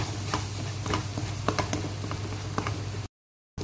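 Egg being stirred with turmeric powder in a pan for egg rice, a repeated scraping and clinking of a utensil against cookware over a low steady hum, close and moderately loud, cutting out briefly near the end.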